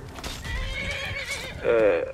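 Horse whinny from the video game Skyrim, a short harmonic neigh rising loudly near the end over background game noise and faint talk.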